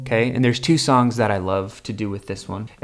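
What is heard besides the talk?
No distinct noise like a dog, phone or traffic.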